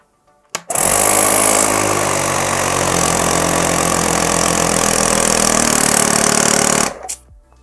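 An Osram OTI1000 portable car tyre compressor starts abruptly and pumps with a loud, steady buzzing rattle for about six seconds, then cuts out on its automatic stop, leaving near silence.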